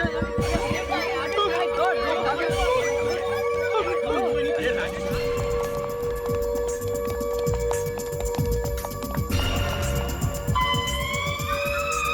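A loud wailing alarm siren, a false alarm, blares continuously amid dense, busy noise, with voices talking underneath throughout.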